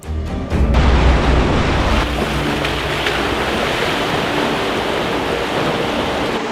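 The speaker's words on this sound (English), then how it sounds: "there's still something unnatural about driving across a river" An off-road vehicle fords a river on an Iceland tour, with a loud churning rush of water and engine that surges early and then settles into a steady wash.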